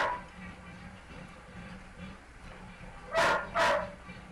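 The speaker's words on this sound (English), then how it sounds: "That was the dog." A dog gives two sharp, loud barks close by near the end, after a stretch of quiet room tone.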